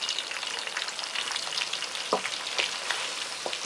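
Chili pepper flakes fry in hot oil while Korean spicy oil is made, giving a steady close sizzle with a few sharp pops and stirring scrapes and no talking.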